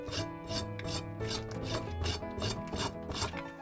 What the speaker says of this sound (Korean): 씻은 우엉은 껍질을 칼등으로 긁어내려서 벗겨주세요